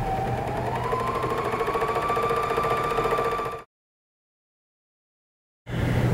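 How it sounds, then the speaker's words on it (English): A BERNINA overlocker serges a seam in a fast, even mechanical whir at close range, runs for several seconds, stops abruptly into silence, then starts again. "then continue serging the seam."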